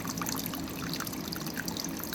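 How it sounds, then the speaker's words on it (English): Water trickling and cascading through a small pond full of snails and algae, a steady close-up wash of running and splashing water with no voices. "That water runs down through there and then just cascades on through."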